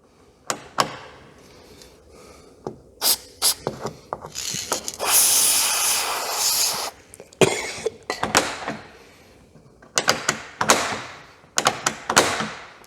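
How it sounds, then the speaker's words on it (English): A maintenance aerosol hisses in one sustained burst onto a part of an old Mk1 Ford Capri that has sat unused for years, surrounded by close clicks, clunks and ratcheting of the part being worked back and forth. "Just going to set to with a maintenance spray until that works, I think."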